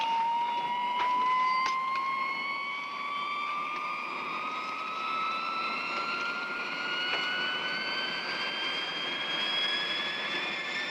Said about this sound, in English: A low-wing, dual-control jet trainer, powered by 2 turbojet engines